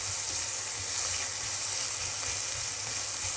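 Chicken sizzles steadily in a hot pan while sautéing with garlic and ginger, a continuous bright frying hiss heard close and alone, with a low background hum beneath.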